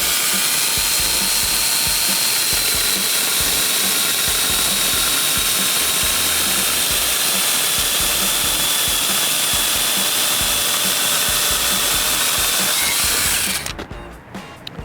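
A chainsaw adapter fitted to a battery-powered grinder cutting through wood, with a loud, steady, close buzzing whine and a constant rattling chatter that cuts off abruptly near the end.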